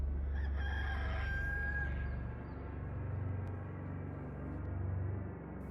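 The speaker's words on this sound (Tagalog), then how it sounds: "hanggang sa makarinig na ako ng mga nagtitilaukang manok sa labas" Roosters crowing outdoors in the early morning, a long clear crow rising over a steady low rumble of background noise, then fading to ambient hum with no voices.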